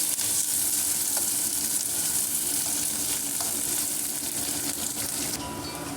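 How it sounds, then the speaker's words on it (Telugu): Onions, green chillies and curry leaves fry in a pan with a steady, close sizzle and crackle that holds evenly throughout, with no voices. "ఉల్లిగడ్డ, పచ్చిమిర్చి, కరివేపాకు అండి 3 వేసుకున్నాము. గోల్డ్ కలర్ వచ్చే వరకు ఫ్రై చేసుకున్నాము లైట్గా."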